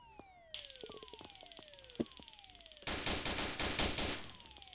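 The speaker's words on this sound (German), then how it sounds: "Okay, ich höre Waffen." Rapid bursts of gunfire in the police video game Notruf Hamburg during a jewelry store robbery, sharp repeated shots that intensify into a dense automatic volley, with a siren sweeping underneath.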